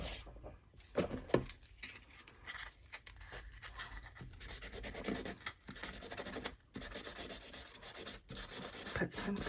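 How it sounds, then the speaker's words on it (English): Sandpaper rubbed over a painted surface on a junk journal page to rough it up and make grooves, heard as close, soft, uneven scratchy strokes with brief pauses between bursts. "the other thing we could do instead of dry brushing is some sanding, and that would create some grooves"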